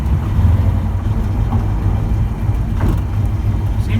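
A vehicle with a rebuilt TH200-4R automatic transmission driving on the road, a steady low engine and road rumble that stays fairly even, with any smooth gear shifts blending into the continuous drone.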